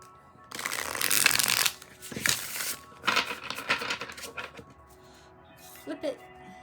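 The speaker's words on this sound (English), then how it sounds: "So let's give it a shuffle here" Tarot of Oneness cards are riffled and shuffled in several close, papery bursts, followed by a short spoken remark.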